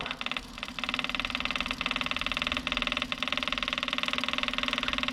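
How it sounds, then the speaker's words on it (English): The fuel pump of an Iseki TLE3400 compact tractor runs with a steady, rapid pulsing buzz and a constant mechanical drone, close and loud, with a few brief dips in level and no talk. "you should hear the pump change noise once it's full"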